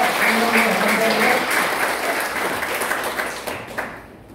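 Congregation applause at a Korean church thanksgiving service, honoring the association chairman; loud, dense clapping with a faint voice underneath early on, tapering off near the end.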